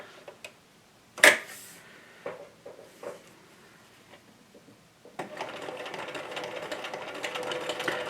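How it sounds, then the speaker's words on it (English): A few scattered clicks and a sharp knock come first, then a sewing machine starts and runs in a steady, close mechanical whir. "I don't think you can see my sewing machine."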